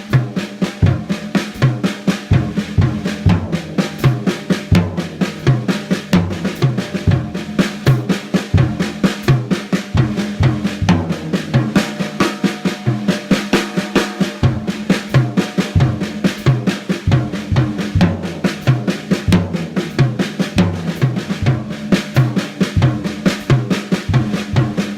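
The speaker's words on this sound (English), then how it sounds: "every time the right hand hits a tom, the bass drum, every time the left hand hits a tom, it's going to be the hi-hat" Drum set warmup pattern played continuously, hands moving across toms with the bass drum and hi-hat answering each stroke, a fast, loud, steady stream of punchy hits.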